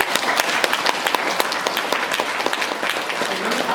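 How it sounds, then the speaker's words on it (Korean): An audience at a Catholic monthly prayer meeting gives dense, steady applause, with many hands clapping close together throughout. "박수 한번 쳐주세요."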